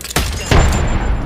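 A bomb in the video game Apex Legends goes off in heavy, close booms, one sharp burst followed by a louder blast that trails into a sustained low rumble.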